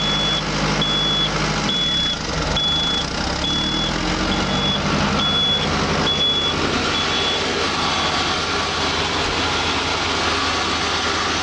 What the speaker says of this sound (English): So we slowly engage the PTO, and that'll start everything turning.